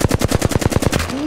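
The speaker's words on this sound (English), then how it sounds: "They spotted me. I'm taking shots." Rapid automatic gunfire from a battle royale video game, about a dozen evenly spaced loud bursts in quick rhythm, ending with a rising tone, no talk over it.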